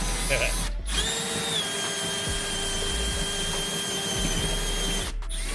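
A power drill bores out mounting holes for a rear wing on a BMW E36 M3, its steady high whine running unbroken for several seconds, close and loud, with short pauses at the start and end.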